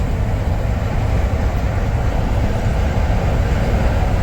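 Steady loud rumble of a long freight train rolling past, hauled by two locomotives at the front and two pushing at the rear, with continuous low wheel and engine roar and no talk.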